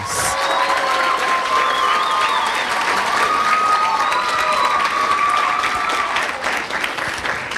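Sustained, loud applause fills a high school commencement hall, with some cheering over steady crowd clapping that eases slightly toward the end.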